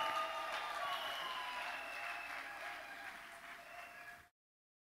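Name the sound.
congregation applauding at a wedding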